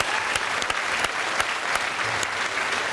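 A studio audience claps steadily throughout, a dense continuous burst of applause with a few sharper individual claps standing out, no voices on top.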